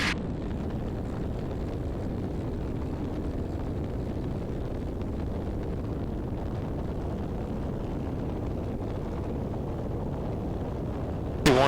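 A Piper J3 Cub aircraft engine roars steadily as the throttle comes up, a broad, continuous drone with wind rush that holds constant and close throughout.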